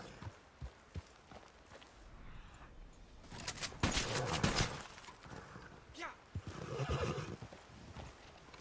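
A horse in the video game Red Dead Redemption 2 gives a loud neigh and whinny, with clip-clop hooves on the ground before and after.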